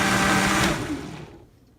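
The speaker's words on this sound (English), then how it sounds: "Time to blend everything up" A blender whirs through a nutty butter banana date smoothie, a loud steady motor hum that fades out as the machine winds down, with no talk.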